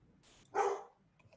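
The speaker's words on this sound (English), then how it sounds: "excuse my dog." A dog named Harmony lets out a single sharp bark, preceded by a softer breathy yip, close and clear against an otherwise quiet room.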